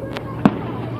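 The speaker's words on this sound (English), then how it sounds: "these are the Chillicothe 4th of July fireworks" Fourth of July fireworks over a river flood wall in Chillicothe, two sharp pops a fraction of a second apart, the second a loud crack with a short echoing tail against faint background murmur.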